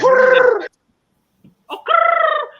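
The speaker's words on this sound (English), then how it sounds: "Bird call." Rooster crowing as a sound effect on a Philadelphia Eagles sports talk show, two loud, close cock-a-doodle-doo calls separated by a short pause.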